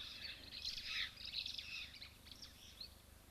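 Birds chirp and twitter in quick, high overlapping calls at a wild waterhole, steady and moderately close with a soft outdoor hum beneath.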